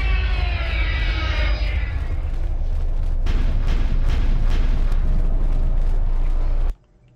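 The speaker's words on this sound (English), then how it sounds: "Sounds like gunshots going off in the game." Dense, continuous rumbling booms and rapid bursts of gunfire in the game Star Wars: Knights of the Old Republic II – The Sith Lords, loud and sustained, ending abruptly in near silence.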